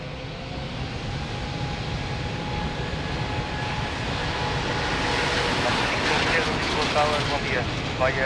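A fixed-wing airliner taking off from runway 02 at Lisbon Airport, a broad steady engine roar that swells gradually with a faint whine on top, heard from a distance over wind noise.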